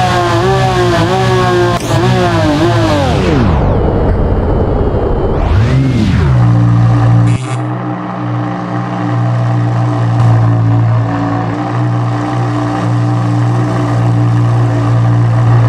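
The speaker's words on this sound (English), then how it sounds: "Lamborghini." A Lamborghini in BeamNG Drive on a winter road ramp course roars loudly and close, its engine revving up and down in sweeping pitch changes before settling into a steady, sustained high-revving drone.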